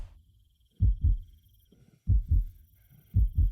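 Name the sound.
heartbeat sound effect in a video game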